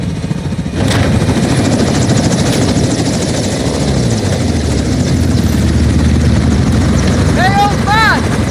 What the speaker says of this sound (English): Stay in the heli on overwatch.